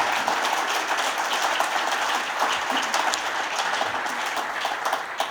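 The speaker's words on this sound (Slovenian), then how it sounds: "prosim, en velik aplavz" An audience at the Orion 2025 award ceremony claps in sustained, even applause, moderately loud and without speech.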